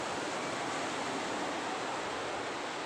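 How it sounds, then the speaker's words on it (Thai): Sea waves washing on a beach, a steady, even rush of surf that fills the whole moment without talk. "พาดูทะเลพาดูทะเล"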